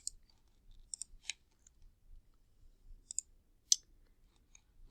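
Sparse, quiet clicks of computer keys being typed, a few isolated taps spread across several seconds with long pauses between them, no voice present.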